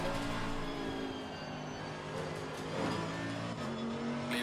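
Race car engine drones steadily in a sim racing game as a rival Mercedes AMG GT3 runs alongside on the left, with revving pitch shifts and faint tire squeal across a few seconds.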